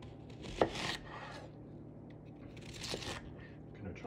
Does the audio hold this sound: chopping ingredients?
yes